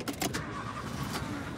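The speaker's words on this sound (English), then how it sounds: "let's start up our car" A car engine cranks and catches, a short close rumble inside the cabin with no talking.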